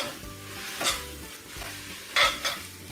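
Spaghetti aglio e olio being stirred in a sizzling pan, a steady frying hiss with a few sharper scraping and clattering strokes of the utensil against the pan, close up and without talk.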